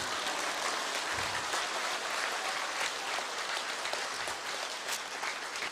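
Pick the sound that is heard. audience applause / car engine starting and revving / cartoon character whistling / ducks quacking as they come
audience applause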